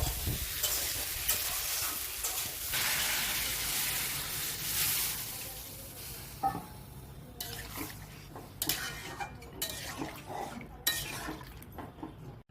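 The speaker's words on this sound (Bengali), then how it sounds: "মাছের মাথা দিয়ে একটু নাড়াচাড়া করে" A spoon stirs fish head curry in a pan, with a steady sizzle of frying giving way to scraping, clinking strokes against the metal, close up and without talk.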